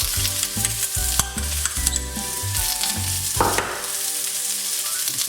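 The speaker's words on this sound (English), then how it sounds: "then next we put in the black bean" Black bean garlic paste sizzles and fries in a hot pan, a steady close crackle with scraping stirs and clinks of a utensil against the pan, no talking.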